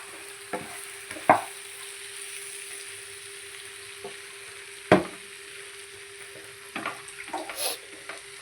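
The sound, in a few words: sautéing ingredients for drumstick chicken curry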